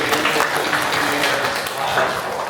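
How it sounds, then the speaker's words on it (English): Audience applause at the close of a business talk in a monthly industry series, a steady dense wash of clapping throughout with some voices mixed in. "Some round of applause."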